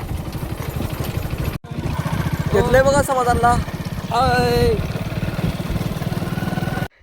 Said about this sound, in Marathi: स्प्लेंडर घेऊन चाललोय